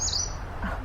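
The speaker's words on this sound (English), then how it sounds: "A magnolia warbler." A magnolia warbler gives a single faint, high, brief call from bright green treetop leaves on a farm, heard alone over quiet outdoor ambience.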